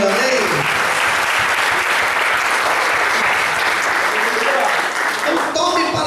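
A church congregation at an Easter service bursts into loud, sustained applause, the dense clapping filling the room evenly from start to finish, with a voice speaking over its start and end.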